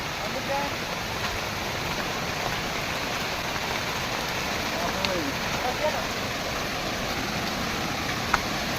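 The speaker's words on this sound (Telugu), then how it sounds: "చాలా బాగా గట్టిగా వర్షం పడుతుంది" Heavy rain pours down at Kudiya waterfall near Araku. A dense, steady roar of rain and rushing water fills the whole stretch, with faint voices briefly audible beneath it.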